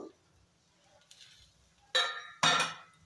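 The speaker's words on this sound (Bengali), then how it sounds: "আবার ঢাকনাটা তুলে দেখে নেব" Two sharp metallic clinks of a lid lifted off a cooking pan during egg preparation, close and distinct after a faint tap, with a quiet background.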